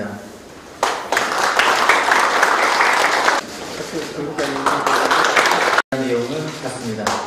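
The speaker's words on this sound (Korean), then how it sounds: "박수" A roomful of people at an Icheon city award ceremony in Changjeon-dong clap in a sustained burst that pauses, resumes, then cuts off, with a person speaking over and after the clapping.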